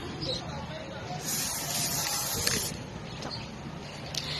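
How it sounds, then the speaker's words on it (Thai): Protective coating spray hisses from an aerosol can onto a handmade decorative coaster, with one steady burst of about a second and a half, then quieter short hisses, fairly close and loud against a low room background. "จากนั้นก็นำไปฉีดสเปรย์เคลือบค่ะ"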